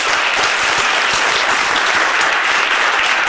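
Dense, loud applause from a full audience follows a keynote talk on fighting misinformation with AI, a continuous roar of many hands clapping at once with no pauses.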